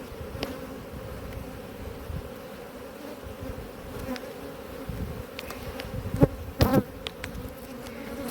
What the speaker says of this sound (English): quite a lot of bees in there now.